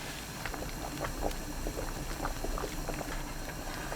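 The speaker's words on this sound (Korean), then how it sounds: "끓는 물에 굵은 소금 반 큰술, 두부 넣고 2분 데칩니다." A pot of water salted with coarse salt is at a rolling boil as tofu blanches, giving a continuous bubbling, gurgling simmer with small pops, steady and close, no talk.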